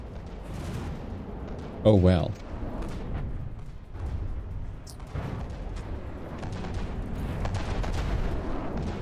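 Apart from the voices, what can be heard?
cannon fire and explosions in From the Depths video game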